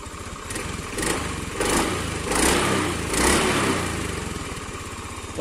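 An automatic scooter running Federal Ultratech Matic 10W-30 oil revs up close in four distinct throttle blips over a steady idle. It has a light, buzzing engine note and there is no talk.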